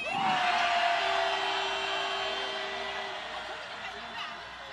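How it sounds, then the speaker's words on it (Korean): Large rally crowd roaring and yelling as a wave sweeps through, a dense, loud wash of voices with one sustained shout rising above it, crowd noise alone throughout. "소리 한번 더 지르겠어 파도타기"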